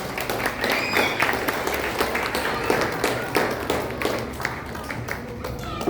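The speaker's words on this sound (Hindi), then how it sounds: "एक बार फिर से जोरदार तालियां" Steady applause at a children's Arya Samaj programme in Bangalore, many hands clapping continuously at moderate loudness throughout, with a little talk mixed in.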